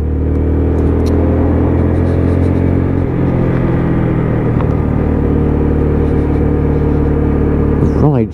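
A UM Freedom 125cc custom motorcycle being ridden, its engine a loud, continuous rumble close up with heavy wind noise throughout.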